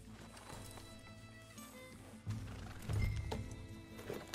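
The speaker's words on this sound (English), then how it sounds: "Get back on the horse." Horse hooves clip-clop at a steady walking pace over ambient background sound in Red Dead Redemption 2, growing heavier and closer toward the end.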